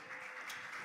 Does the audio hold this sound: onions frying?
no